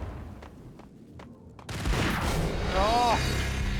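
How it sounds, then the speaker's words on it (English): A grenade goes off in a video game: after a few faint ticks, a sudden loud blast gives way to sustained rumbling noise, with a rising and falling tonal whine in the middle, heavy and close. "Oh, that's a grenade."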